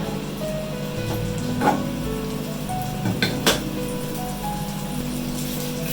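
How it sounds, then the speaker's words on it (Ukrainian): Garlic stews in oil in a pan, a steady close sizzle running throughout with a few light clinks of utensils against the pan. "І тоді сюди штремо часничок. І зараз все це буде гарно тушитися."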